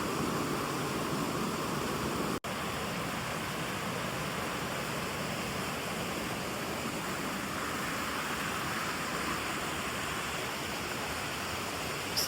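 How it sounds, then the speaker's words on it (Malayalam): The Anchukuzhi waterfall produces a steady, dense rush of falling water that fills the whole scene at an even level, with no voices over it. "നല്ല വെള്ളച്ചാട്ടമാണ്."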